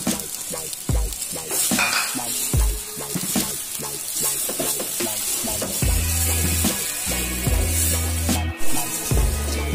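A vegetable and grated boiled egg filling for pointed gourd kofta sizzles loudly in a pan, with steady close frying hiss and repeated scraping stirs throughout.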